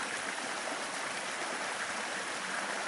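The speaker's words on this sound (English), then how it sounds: "This is a water race beside Tinstone Creek" Water in a narrow water race beside Tinstone Creek rushes in a steady, broad hiss, continuous and fairly close, with no other sounds standing out.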